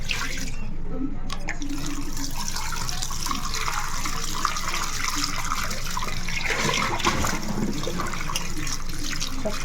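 Hot water is poured over dried fish and eggs being scrubbed clean for a clay-pot curry. Steady splashing and running water continue throughout at close range.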